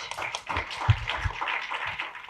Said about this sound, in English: may I request a huge round of applause inviting Consul-General of Malaysia, Mr. Saravana Kumar, onto the stage